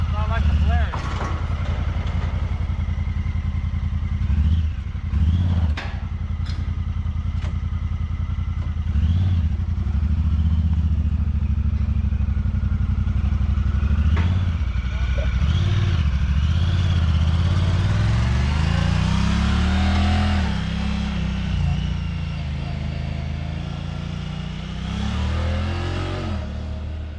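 A Honda Talon 1000X UTV engine revs in short bursts and idles, its low throttle rises and falls repeatedly and close by, with people talking over it.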